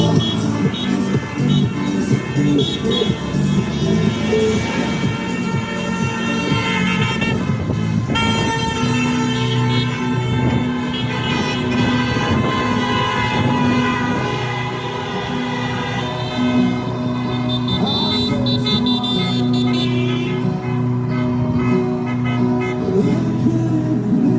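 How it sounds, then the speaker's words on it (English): Car and truck horns toot and honk repeatedly in busy street traffic in northwest London, Harrow, with long sustained blasts and shorter beeps layered over continuous engine rumble and road noise. "You obviously hear the horns beeping on the cars."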